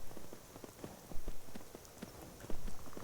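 Horse hooves clip-clop in the video game Skyrim, a steady run of close, soft thuds over light ambient noise.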